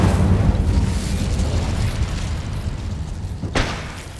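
An Incendio fire spell blast in the video game Hogwarts Legacy, a loud rushing whoosh and low rumble that fades over a few seconds, followed by a sharp crack near the end.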